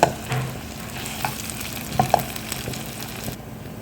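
Close, soft sizzling of cassava sautéing in ghee in a pan, with occasional scrape and clink of a utensil stirring the pieces.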